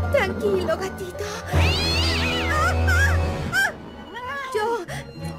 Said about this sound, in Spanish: Yo ya sé por qué está tan enfadado, señor gato.